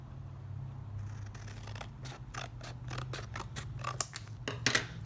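Scissors snip repeatedly through the flaps of a brown cardboard box, a series of crisp, irregular cuts over a steady low hum, close and moderately loud.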